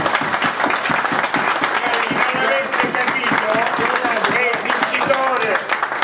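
An audience at a maître d' selection competition in Ragusa claps loudly and continuously at close range, individual claps audible within the dense applause, with voices calling out underneath.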